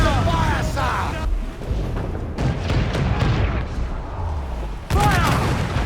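Repeated naval cannon broadsides in Assassin's Creed IV Black Flag, loud booming volleys across a busy sea battle, with shouted crew voices over the din and a fresh heavy blast near the end.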